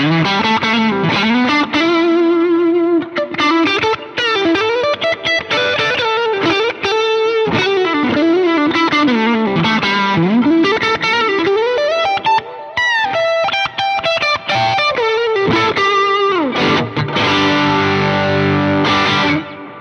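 Overdriven electric guitar through a Line 6 HX Stomp Mandarin Rocker amp model, playing a continuous, loud riff with chords and single-note runs, full-bodied and slightly bass-heavy, no voices.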